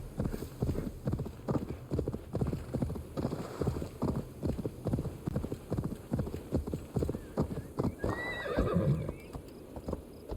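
Horse hooves clip-clopping at a steady galloping rhythm with a neigh near the end, mounted riding in the Assassin's Creed Valhalla video game, close and continuous.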